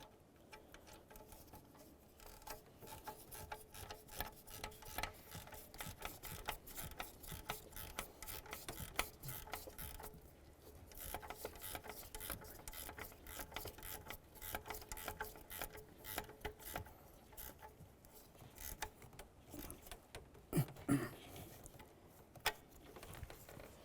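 Ratchet wrench snugging a nut onto an exhaust manifold flange stud on a 2005-2010 Chevrolet, giving steady, rapid metallic clicking close up for the whole stretch with no talk.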